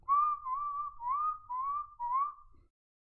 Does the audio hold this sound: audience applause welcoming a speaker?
no